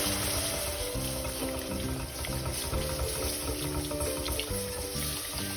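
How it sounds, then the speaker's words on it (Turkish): Milk pours into toasted flour in a pan with a constant watery rush and trickle, fairly faint and steady throughout, with no talk. "Şimdi sütümü ekliyorum."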